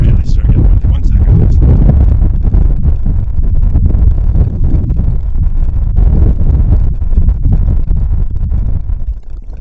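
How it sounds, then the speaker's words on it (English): Strong wind roars against the microphone in a heavy, continuous rumble outdoors at the CAF WWII Aviation Museum, Camarillo, California, with a voice partly buried beneath it. "it just really started getting windy"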